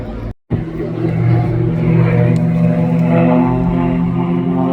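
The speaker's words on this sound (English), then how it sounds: "he acquired his own Zlin, a Czechoslovakian aerobatic aircraft" A Czechoslovakian Zlin aerobatic aircraft flies at the Southport airshow, its propeller engine a steady, loud drone with a droning harmonic hum that holds after a brief cut near the start.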